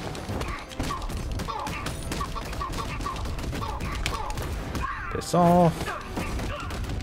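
Enemy gunfire in Batman Arkham Knight, scattered shots and impacts mixed with combat noise, while someone talks briefly over it.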